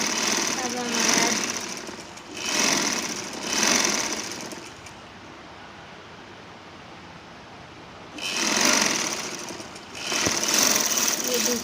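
A sewing machine stitches a seam on a kurti in four short bursts of rapid whirring, separated by a quieter pause in the middle.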